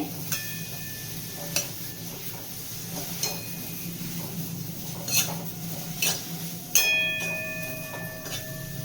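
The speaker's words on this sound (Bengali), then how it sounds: "গ্যাসটা কমিয়ে রেখে আমি ভেজে নিলাম" Neem leaves fry in a pan over low gas with a soft sizzle, broken by several sharp metallic clinks and scrapes of a spatula against the pan.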